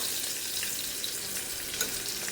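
Onions frying on a low flame, with a steady close hiss and crackle of sizzling oil throughout and no talking.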